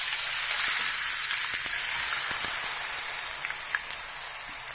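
Potato mixture dough dropped into hot oil over a medium flame, frying with a steady, dense sizzle and crackle like rain on a surface, close and continuous with faint scattered pops.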